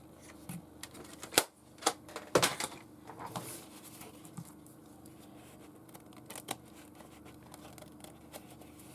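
Scissors snip through paper in a few quick, crisp cuts close by, then softer rustling and scattered clicks follow.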